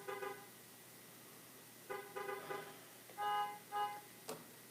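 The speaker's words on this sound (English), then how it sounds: "Someone's honking their horn." A car horn honks outside in several separate bursts, a couple of short toots followed by longer blasts, moderately distant and alone without talk.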